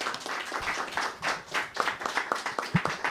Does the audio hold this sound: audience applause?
yes